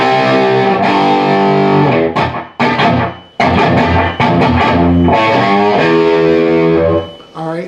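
Distorted electric guitar plays the riff, loud and close, with sustained chords, choppy scratches and octave figures in a driving rock rhythm, no voice over it.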